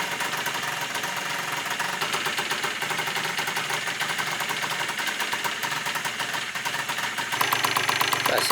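A Yamaha Aerox scooter engine idles while warming up, its fast, even burble running steadily up close, growing a bit louder near the end.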